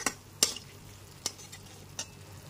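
Sugar is stirred into a spice masala frying in a pan for a vegetarian brinjal dish, giving a faint low sizzle under three or four sharp spoon clinks against the pan, quiet and close.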